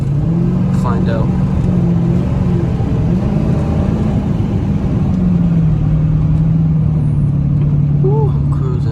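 Idling engine of a Dodge Charger Pursuit with its muffler deleted and an exhaust leak, a loud, steady low rumble that holds throughout while someone talks over it.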